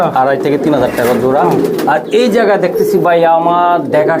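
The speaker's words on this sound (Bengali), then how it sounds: "বিশাল এটা ইয়াং কবুতর মনে হচ্ছে" Kaldom pigeons at a large pigeon farm give loud, close cooing calls in repeated rolling bursts while people talk throughout.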